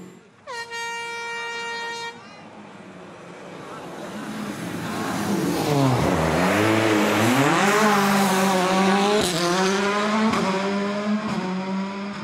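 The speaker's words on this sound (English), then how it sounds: "Another hairpin coming up, where it's turn, clutch, pull that handbrake, and up you go." A rally car on the Monte Carlo rally takes a hairpin turn, its engine dropping off and then revving hard again with rising and falling pitch as it powers out, after a brief blaring horn-like tone at the start.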